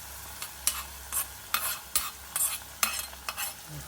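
Red onions roasting in a pan for a Konkani godi bendi dish, stirred in about ten quick scraping strokes over a steady low sizzle, close and fairly quiet with no talking.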